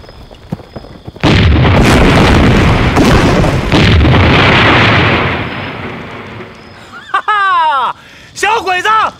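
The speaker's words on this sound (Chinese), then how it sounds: "每个方向留十个人继续放鞭炮" Firecrackers set off in a Chinese wartime TV drama, a loud sustained burst of rapid crackling explosions lasting several seconds, then fading, followed by short snippets of laughter and voices.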